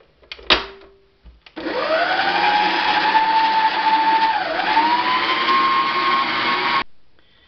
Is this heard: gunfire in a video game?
no